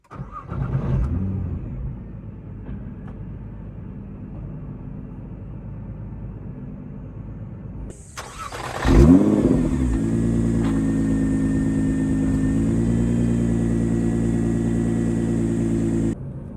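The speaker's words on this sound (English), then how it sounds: "you could start the engine by putting on or pressing on the brakes" A 2025 Nissan GT-R: a brief starter whirr and rumble, then a pause, then the engine catches with a loud burst and settles into a steady, close idle hum.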